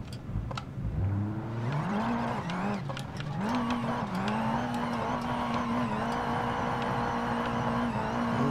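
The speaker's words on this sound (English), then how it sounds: "I'm gonna do a 1 minute burnout in BeamNG, at least until my engine overheats." A car in BeamNG.drive does a burnout, engine revving up and holding a high steady drone with tire squeal layered over it, loud and continuous.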